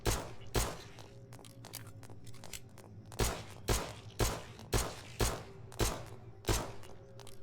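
Pistol fire from the zombie survival game Night of the Dead, about nine sharp shots at fairly even intervals, each with a short decaying tail, over a steady low game hum.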